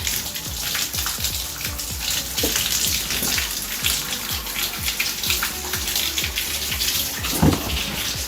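Hot water gushes steadily from a tap in a continuous, close splashing stream while cleaning, with no voices over it.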